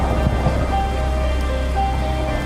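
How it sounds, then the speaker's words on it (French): Heavy thunderstorm downpour: dense, steady rain hissing and pattering on surfaces, loud and close, with a constant low rumble beneath and no talk. "C'est la grosse averse orageuse."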